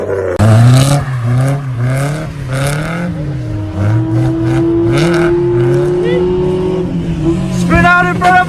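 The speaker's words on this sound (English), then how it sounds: "Spin out in front of everyone!" A modified race car spins out during a race, tires scraping and engine whining as it slides and revs, loud and close, with excited voices shouting over it.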